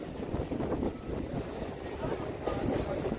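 A Sealdah–B.B.D. Bag local train running along the Budge Budge branch line near the Tolly canal, with a loud, continuous rumble and rattle of the carriages heard from on board.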